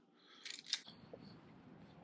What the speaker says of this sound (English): Jeep keys